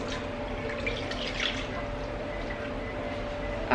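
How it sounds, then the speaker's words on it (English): Vitamin D whole milk poured from a container into a measuring cup in a home kitchen, a continuous close, soft liquid trickle with a steady burble and no talking. "I'm going to pour it in my measuring cup real quick."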